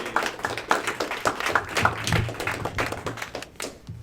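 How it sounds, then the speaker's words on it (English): Applause for the champions at the 2016 Capital One Circuit finals: a steady patter of many hands clapping throughout, dense and fairly close, with no pause. "round of applause to our champions of the 2016 Capital One Circuit"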